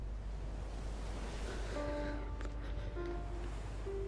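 Ocean waves wash onto a beach in a film scene as a steady broadband surf roar, with faint tonal music entering partway through.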